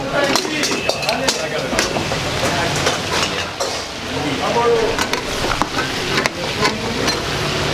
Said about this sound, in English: just the fat is just sizzling out into oil